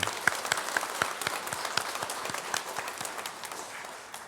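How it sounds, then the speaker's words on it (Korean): A church congregation at a New Year's thanksgiving service applauds to encourage the choir, with steady, moderately distant clapping from many hands that continues evenly and fades slightly toward the end. "다시 한번 격려의 박수를 부탁드리겠습니다"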